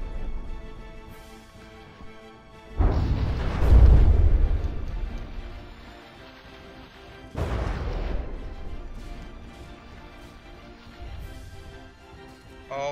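Heavy artillery fire and explosions in the naval combat game From the Depths, two big booming blasts with long rumbling decays, the second a few seconds after the first, with fainter distant impacts between them and no talking.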